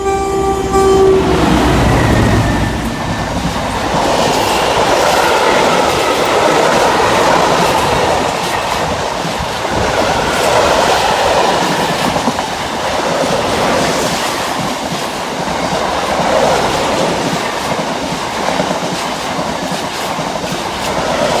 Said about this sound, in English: it'll be that second freight train from Fiat Puma going to Robston. Carrying a load of 600 tons.